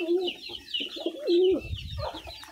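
Siraj pigeons at their nest make soft, repeated rolling coos, close and fairly quiet, with a few brief rustling sounds near the end.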